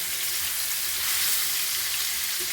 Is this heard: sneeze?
no